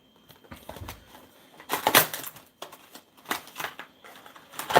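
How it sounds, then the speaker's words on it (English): Toy tractors torn out of their packaging: crinkling plastic and cardboard rips in uneven bursts, close and fairly loud, with short pauses between pulls and no speech. "I might as well tear them out of the packages, right?"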